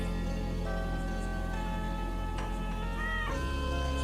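A cat gives a short meow near the end, heard over a sustained droning musical backdrop from a film soundtrack.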